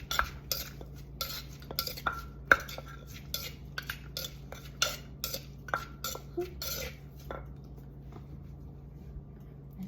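Green papaya salad (som tam) pounded in a mortar, with a steady run of sharp, close knocks and clatters repeating about twice a second before thinning out toward the end, over a low constant hum.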